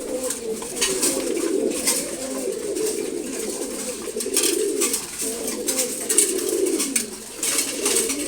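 Pigeons feeding in the morning coo in low, rolling throaty calls, repeating steadily and close by over a faint airy background.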